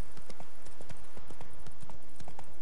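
Horse hooves clip-clop at a steady trotting rhythm while riding through The Witcher 3 on PS4, the regular hoofbeats close and clear with no talk over them.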